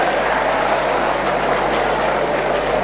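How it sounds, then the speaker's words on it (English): Dense, continuous audience clapping fills a conference hall at a session on lawyer health and wellness, loud and sustained without pause, a steady wash of many hands with no speech over it. "This clapping tells me something is wrong somewhere"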